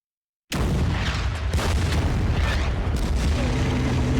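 After a brief silence, a heavy explosion erupts as a Panzer I tank is attacked in the wargame Order of Battle, followed by a sustained, rumbling roar with smaller booms scattered through it.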